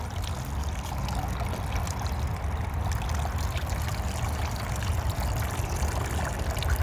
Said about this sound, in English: Tilt it to let it drain.